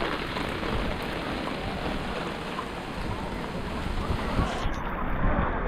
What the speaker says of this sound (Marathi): तुम्ही बघितलं पाऊस किती होता